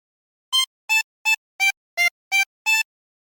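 Seven short, evenly spaced notes come from a 24-hole tremolo harmonica playing a phrase of the Squid Game theme, reedy and bright, with silence between each note.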